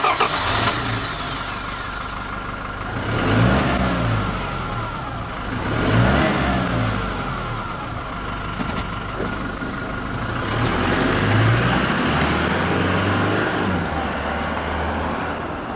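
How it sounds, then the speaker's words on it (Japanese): A Toyota Hilux GUN125 pickup with its stock factory muffler, heard at low speed, gives a steady mid-pitched exhaust drone that rises and falls in several gentle revving swells, close and fairly loud with no talking. "ノーマルマフラー低速。"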